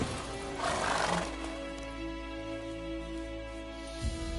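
Horse neighing and clip-clopping in The Witcher 3 fantasy video game, one loud whinny early, then steady hoofbeats over a low rumbling game background.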